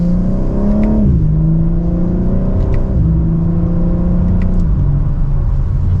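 A 2025 BMW M4 Competition accelerating hard from second gear, its engine and exhaust roaring loudly and climbing in pitch, with a quick upshift dip before revving up again, close and alone.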